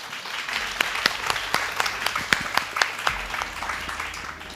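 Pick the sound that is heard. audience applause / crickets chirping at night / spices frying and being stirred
audience applause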